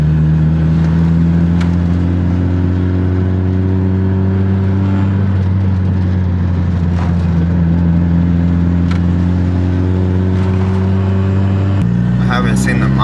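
A Honda Civic EJ1 engine hums steadily from inside the car on a test drive, with a gear-change shift in pitch near the end and a person talking over the engine.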